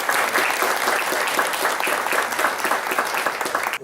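A live audience bursts into sustained, dense clapping at a formal tribute event, steady and loud throughout with no voices on top.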